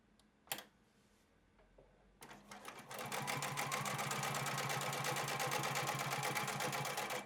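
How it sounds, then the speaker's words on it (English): After a few faint clicks and handling noises, a sewing machine starts up and runs continuously, close and steady, top stitching a double row along a jeans front pocket. "Machine a double row of top stitching along the top."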